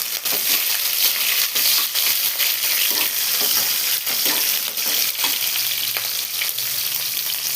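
Ginger, garlic and green chilli fry in a pan for fish puttu, a loud continuous crackling sizzle broken by frequent clicks and scrapes as the pieces are stirred.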